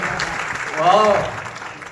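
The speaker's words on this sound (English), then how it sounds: "Let's give a big applause." A stage audience claps briefly after a humanoid robot performs a dance and backflip, a short burst of applause that swells and fades within about two seconds.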